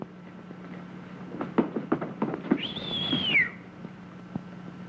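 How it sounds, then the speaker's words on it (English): A man whistles at a woman, a single rising-then-falling wolf-whistle following a few sharp clicks and knocks, heard at moderate level in a quiet room. "He is now ready to whistle at the girl to make her angry."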